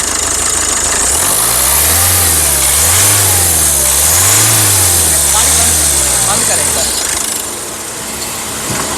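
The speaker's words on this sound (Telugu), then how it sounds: "ఇంజన్ యొక్క నాయిస్ చాలా అంటే చాలా స్మూత్గా అయితే ఉంది" The engine of a 2021 Ford EcoSport Titanium revs up and down in three smooth, rising and falling swells over a steady idle, loud and close, then settles back near the end while someone talks over it.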